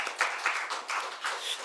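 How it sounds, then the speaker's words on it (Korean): A church congregation claps together in steady rounds of applause, several swelling bursts over a second and a half with no voices on top. "우리 주님께 감사 영광의 박수를 드릴까요?"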